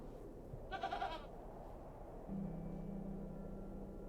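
A goat in the adventure game The Excavation of Hob's Barrow gives one short, wavering bleat, fairly faint and close, followed by quiet ambient drone with a low steady hum.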